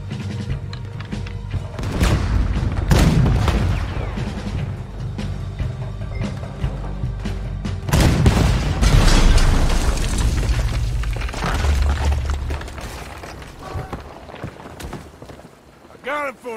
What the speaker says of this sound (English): Use the cannon out there.